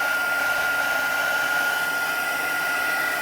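An embossing heat gun blows with a continuous high whirring hum, close and steady, with no break.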